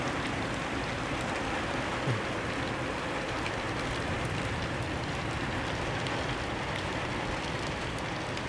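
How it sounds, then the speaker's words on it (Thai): Steady rain falls continuously, a dense even hiss filling the whole clip at moderate level with no voices or distinct events. "ฝนยังตกอยู่เลยครับเนี่ย"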